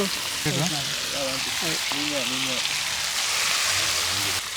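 Fish coated in masala sizzling in a pan of oil, a constant hiss and crackle running throughout while a person talks over it in the foreground.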